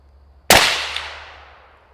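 A single sharp, loud shot from a 6 Arc gas gun rings out once and then decays slowly over more than a second, with the rest of the moment quiet.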